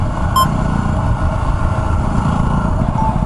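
Steady roaring rush of wind buffeting a rider at speed on a Yamaha WR250R motorcycle, blended with the engine's drone, loud and constant throughout.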